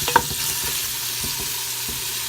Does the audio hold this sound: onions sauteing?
yes